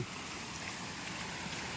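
Water running down from a public village well in the countryside, a continuous broadband rushing flow, steady and fairly close, with no voices over it.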